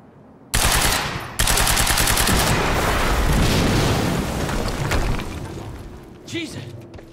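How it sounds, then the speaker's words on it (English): Explosion and gunfire in the video game Quantum Break: a sudden loud boom, then sustained rapid automatic fire at close range, fading into rumbling debris, with a voice shouting briefly near the end. "we just heard an explosion near the harvesting perimeter"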